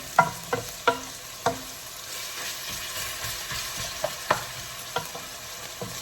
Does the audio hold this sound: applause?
no